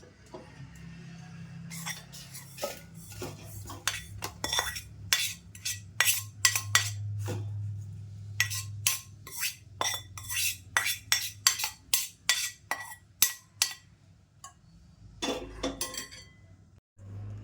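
Roasted green moong flour cooked with ghee being scraped out of a pan, a long run of quick metallic scrapes and clinks in irregular bursts over a low hum, with no talking.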